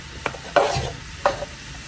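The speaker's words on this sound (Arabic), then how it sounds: "من بعد ما سخنات الزيت غادي نحط البصله ديالي." Chopped onion dropped into hot oil in a pan gives a few short bursts of sizzling and stirring, soft and close, with no voices.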